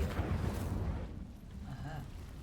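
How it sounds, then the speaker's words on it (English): In Hogwarts Legacy, an Incendio fire spell ignites dry vines with a loud, rumbling whoosh that fades into a lower crackling burn, with a short rising tone near the end. "These dry vines are one spark away from becoming kindling. Okay. Incendio."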